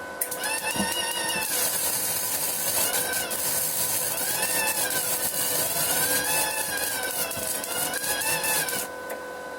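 A Tesla Mig 290 semi-automatic welder runs at maximum voltage with wire speed set to seven, giving a steady, loud, continuous crackling buzz that lasts the whole stretch before cutting off near the end.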